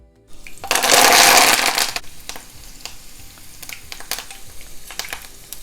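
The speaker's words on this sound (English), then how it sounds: "fry the curry leaves and the green chilies first." A loud burst of sizzling as curry leaves and green chilies hit hot oil, hissing strongly for about a second before settling into a quieter crackle with light scraping.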